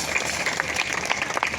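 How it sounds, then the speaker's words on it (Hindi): Audience applause at a religious gathering, a steady wash of clapping sustained through the whole moment at moderate volume, with no voices standing out. "श्रद्धा बहुत है, ताली बजाइए इनके लिए।"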